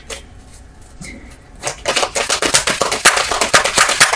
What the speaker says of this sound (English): Let's do a pre-shuffle.